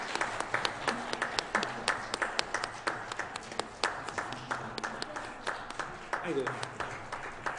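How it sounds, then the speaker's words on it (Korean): A church congregation at a Sunday service applauds newly baptized members with steady, moderately soft clapping in an irregular rhythm, and a voice speaks briefly over it. "박수로 축복하시겠습니다."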